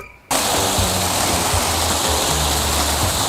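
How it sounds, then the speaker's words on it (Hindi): Water gushes in a loud, steady rush filling a hand-dug pit, starting abruptly after a brief quiet moment and continuing as a dense, close splashing roar. "भाई पानी भर गया इसके अंदर"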